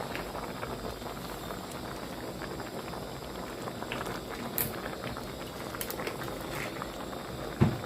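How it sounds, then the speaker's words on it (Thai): A pot of curry simmers at a boil, giving soft, continuous bubbling and patter throughout, fairly quiet and close, with a couple of faint clinks near the end. "ตอนนี้นะครับหมอก็เริ่มเดือดนะครับ"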